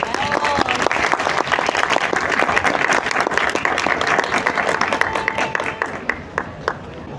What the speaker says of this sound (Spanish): Por favor, deseamos con un fuerte aplauso a los expositores.